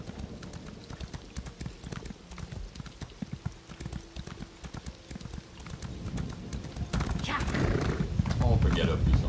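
Horse mount hooves clip-clop in rapid galloping rhythm in the Elder Scrolls Online game, steady and close, growing denser and louder near the end, with a voice talking over it.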